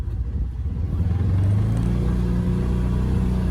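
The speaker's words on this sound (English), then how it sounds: "Okay, here we go into four-wheel drive. Let's see if we can continue on here." A Polaris Ranger XP 1000 UTV climbing in four-wheel drive, its engine giving a loud, close, steady low rumble that rises slightly in pitch as it pulls.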